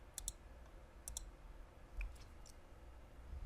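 A few soft, close mouse clicks, spaced apart over faint room hiss, as Start Graphing is clicked on the Desmos website.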